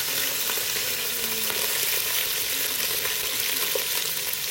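Ingredients fry in a hot pan while a home cook adds green chilies for a dish. Loud, steady, close hissing sizzle with light stirring crackles throughout, and no talking.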